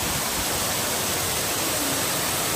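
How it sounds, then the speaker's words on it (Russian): A steady, dense rush of falling water from the Dzhur-Dzhur waterfall in Crimea, constant and loud, roaring without pause. "здесь уже слышно водопад и видно"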